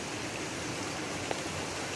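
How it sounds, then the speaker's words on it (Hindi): Steady, dense hiss of rain falling, continuous and even throughout, with one brief faint tap partway through. "बारिश तो दोबारा से स्टार्ट हो गई है"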